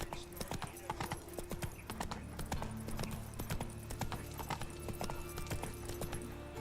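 Roach the horse's hooves clip-clop steadily in The Witcher 3, a close, repeated trotting rhythm under game music and intermittent talk.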